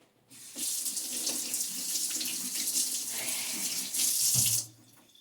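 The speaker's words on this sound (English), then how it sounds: "And then I'm going to wash my hand." Tap water runs steadily into a sink while hands are washed beneath it, a continuous close splashing rush lasting several seconds in a home kitchen during chicken casserole preparation, stopping abruptly at the end.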